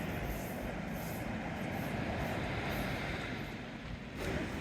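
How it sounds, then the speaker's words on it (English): A train rumbles past at Teignmouth in a steady, faint broadband roar with a low rolling undertone, holding level for several seconds before easing briefly and swelling again. "And I hear a train."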